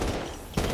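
Assault rifle gunfire in the mobile shooter Call of Duty Mobile, a short loud burst of game shots that drops briefly and then resumes with a sharp report, with no talking.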